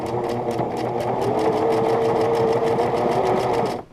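A sewing machine runs a zigzag basting stitch along a fabric edge while quilting, a steady close rapid clatter of needle strokes lasting several seconds before stopping.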